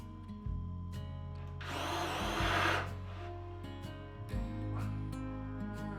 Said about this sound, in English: Then I'll drill for the bolts in the trestle itself.